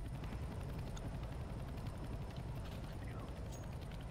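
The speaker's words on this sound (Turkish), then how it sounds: "Abi bu helikopterin de tek savunması bizi getirmesi yani" Helicopter in the Danger Zone mode of a video game, a low, steady rotor and engine drone that stays constant and fairly faint, with no talk over it.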